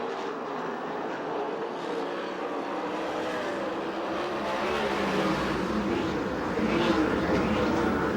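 USAC/CRA sprint cars racing at Perris, California, with a steady, dense roar of engines growing slightly louder toward the end, no voices heard.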